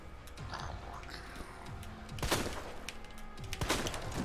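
Gunshots in Resident Evil 2 Remake, two sharp close bursts about a second apart standing out over a faint ambient game background.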